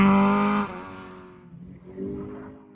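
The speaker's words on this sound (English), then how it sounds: "Leslie Black has the BMW Rally Team Starlet up in 6th place" A Toyota Starlet rally car on a stage loudly revs its engine, then the note drops and fades as it moves away, followed by a second, fainter burst of engine noise.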